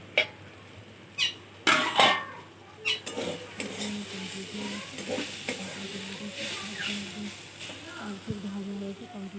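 Food frying in a wok with a moderate sizzle, and clattering utensil knocks and stirring scrapes, heavier at the start, then a steadier fry.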